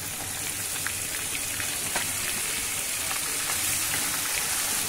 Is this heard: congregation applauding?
no